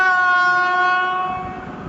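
A train on the Trans-Siberian Railway sounds its horn in a loud, sustained multi-tone blast that slowly fades as wheel rumble rises beneath it.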